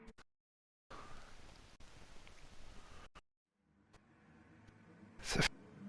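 Wet-weather rain hiss on a racing track in a racing video game, a steady broadband wash broken by brief gaps, ending with a louder rushing burst near the close.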